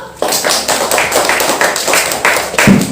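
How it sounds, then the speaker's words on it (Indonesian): Classroom applause for a student group, a steady patter of clapping from a room of people lasting the full few seconds, fairly loud and close. "Kita berikan aplaus untuk kelompok kerucut."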